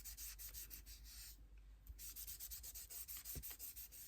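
Paper collage rubbed by hand to check that the makeup colour stays put, a close, steady dry scrubbing with quick back-and-forth strokes and a brief pause midway.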